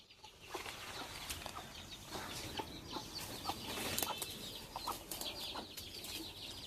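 Faint clucking chickens and rooster calls, scattered and irregular, with soft rustling and wing flutters in the background.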